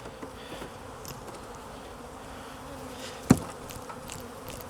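Honeybees buzz around an opened hive during requeening of aggressive colonies, a steady close hum of many wings with one sharp knock partway through.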